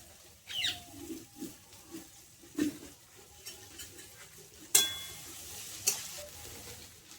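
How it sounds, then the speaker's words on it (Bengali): Chopped carrot and beans are stirred in a hot pan with oil, a soft sizzle under scattered scrapes and a couple of sharper clanks of the spatula against the metal, close and moderately quiet. "গাজর কুচি, গাজর বিনস একসঙ্গে দিয়ে দেবো, দিয়ে একটু নেড়ে ছেড়ে দেবো। এগুলো বেশি ভাজবো না"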